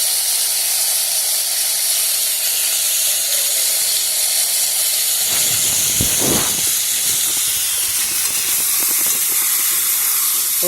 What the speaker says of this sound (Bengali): আর কপি আলুটাকে আমি একটু লাল লাল করে ভেজে নেব